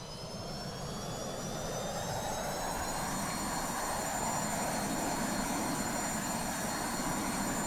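Jet engines of a BAe Avro RJ100 airliner in the X-Plane 11 flight simulator give a continuous, even roar with a high whining tone layered on top, steady and unbroken throughout.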